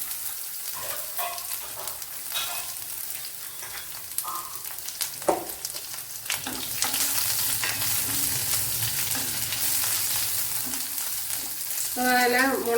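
Cardamom, garlic and ginger fry in a pan for a quail egg roast, with loud continuous sizzling, scattered clinks of stirring and spattering that grows more intense toward the end.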